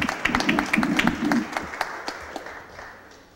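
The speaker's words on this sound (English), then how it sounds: "So let's give them a big round of applause." An audience at a city Board of Aldermen meeting applauds in a short, dense burst of clapping that thins out and fades within a few seconds.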